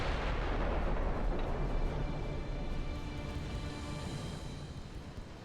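Battlecruiser secondary guns firing armor-piercing shells in Ultimate Admiral Dreadnoughts, a dense rolling barrage of booming naval gunfire that stays loud and continuous, slowly easing toward the end.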